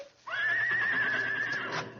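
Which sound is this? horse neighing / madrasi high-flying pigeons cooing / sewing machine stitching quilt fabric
horse neighing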